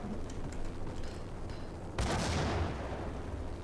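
A grenade blows up in the video game Max Payne, a sudden loud blast that swells and rumbles away after a stretch of quieter gunfire-like crackle.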